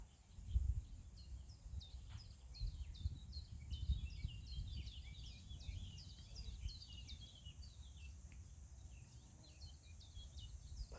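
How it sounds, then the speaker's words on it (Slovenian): Small birds chirp and twitter steadily through a calm outdoor nature scene, with crickets and a soft low breeze rumbling underneath; the calls are light, fairly distant and continuous, with no talking. "Poslušaj zvok ptic,"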